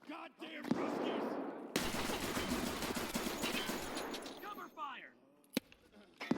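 Rapid bursts of machine-gun fire rattle loudly in a first-person shooter set in Helsinki, dense volleys lasting several seconds alongside sharp single shots, with a panicked voice shouting over the gunfire.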